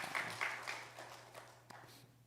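A church congregation claps in praise to God during a Korean worship service. The applause is faint and short, fading within about two seconds over a low steady hum.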